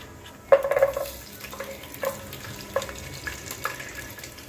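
Mustard seeds, cumin, onion and garlic hit hot oil in a pan for a fish curry, giving a soft sizzle with a few sharper crackling bursts as each ingredient goes in, close and fairly quiet.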